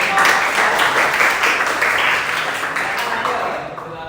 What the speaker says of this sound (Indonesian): tepuk tangan lagi dong untuk kelompok